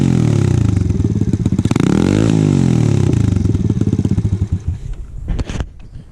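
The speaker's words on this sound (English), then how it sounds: "I'll give you a start up. Alright, I think it has a good sound to it at idle." A small single-cylinder Ice Bear Champion minibike, a CT70 clone, starts up and settles into a loud, rapid, raspy idle with a brief rev in the middle, close and alone before it cuts off near the end.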